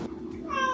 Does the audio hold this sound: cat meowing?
yes